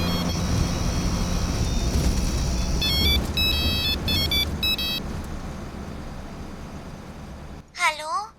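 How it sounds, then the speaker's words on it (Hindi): A phone rings repeatedly in a police station office, its beeping electronic ringtone sounding in short bursts over background rumble and chatter, followed by a voice speaking at the end. "उसी नंबर से फिर फोन आ रहा है"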